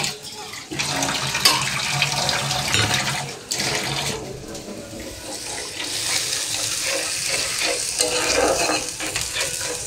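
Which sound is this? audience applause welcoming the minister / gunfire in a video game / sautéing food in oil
sautéing food in oil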